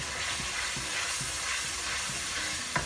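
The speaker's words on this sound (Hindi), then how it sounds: "हमने मसाला भून लिया अच्छा सा।" Spiced masala with kalonji seeds frying in hot oil in a pan, a constant bright sizzle with faint stirring knocks under it, close and steady with no talking.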